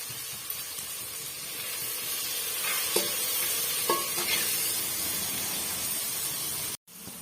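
Chopped tomatoes and onions sautéing with salt in a pan for a chickpea-flour Bombay chutney, giving a steady loud sizzle and hiss with a couple of scraping stirs, ending abruptly, with no talking.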